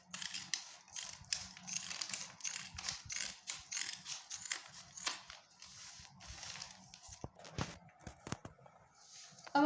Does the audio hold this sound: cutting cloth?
yes